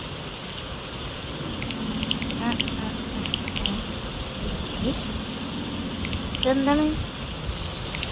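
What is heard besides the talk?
rain in a crafting video game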